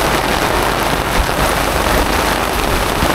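Heavy rain pours steadily onto surfaces outdoors, a dense continuous hiss with scattered closer drops, loud and without talk.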